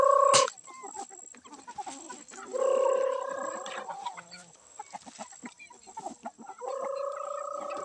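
Chickens cluck and squawk close by in a small backyard coop, with sharp repeated calls alternating with quieter scratching and rustling, and little speech.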